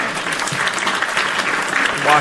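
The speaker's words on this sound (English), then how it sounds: "hit my hand claps" Hand claps played as a sound effect during a podcast, a short burst of clapping heard against continuous background chatter.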